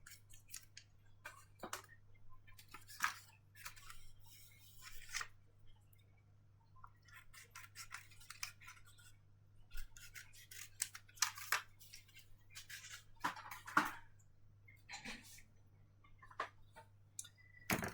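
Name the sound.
cutting off excess vinyl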